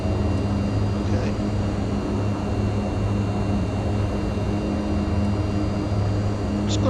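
A Mitsubishi MU-2 turboprop in Microsoft Flight Simulator drones with a steady, even engine hum throughout, constant and unbroken.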